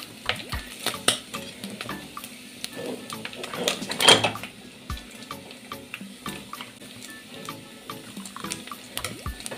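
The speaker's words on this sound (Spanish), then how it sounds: "Le vamos a sacar un poco de aceite porque tiene mucho" A spoon scrapes and stirs in a pan of pork sizzling in oil as excess oil is scooped out, with a steady frying hiss under repeated close metallic clinks and scraping.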